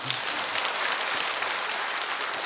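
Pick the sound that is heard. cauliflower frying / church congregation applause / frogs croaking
church congregation applause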